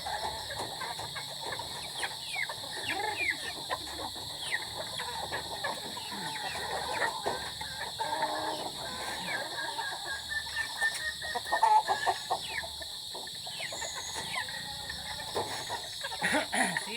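Chickens cluck and chatter at feeding time on a farm, a steady busy flock murmur with occasional louder squawks over constant insect buzz, brief human voices in the background.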